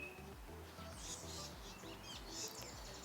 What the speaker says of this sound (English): Maybe noticing the bird song.